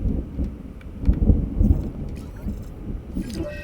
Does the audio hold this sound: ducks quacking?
no